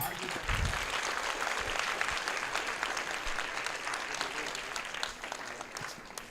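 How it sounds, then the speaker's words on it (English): Applause for the priest at the Sri Adhi Parashakthi Amman temple, a dense sustained clapping from a crowd of devotees that stays steady and full for several seconds before tapering slightly. "Devotees, give a big applause to the priest."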